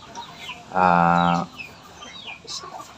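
A Shamo or Aseel fighting chicken gives one loud, drawn-out call lasting under a second, close by, followed by faint chirps and low background noise.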